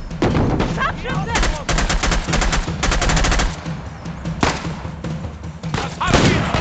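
Heavy gunfire from the video game Uncharted: The Lost Legacy, with loud rapid bursts of shots and thuds crowding the clip, pausing briefly before more cracks and impacts near the end.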